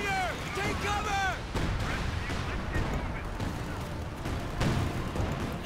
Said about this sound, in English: Gun batteries report barrage strikes now available in your sector.